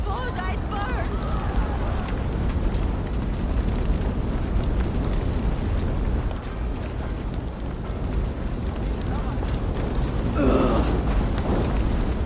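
Fire burns in a Viking-era setting in Assassin's Creed Valhalla, a dense, continuous roaring crackle that stays loud throughout, with brief shouting voices near the start and near the end.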